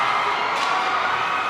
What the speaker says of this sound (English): A sellout crowd.